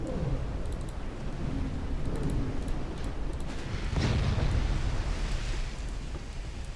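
Naval gunfire and shell explosions from Ultimate Admiral: Dreadnoughts rumble continuously, with a heavy booming blast near the middle over dense low roar and faint distant cracks, no voices.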